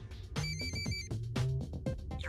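A cartoon telephone rings in Hot Wheels Battle Force 5, a loud electronic ringtone of repeated warbling tones in short bursts, filling the scene over a low background rumble.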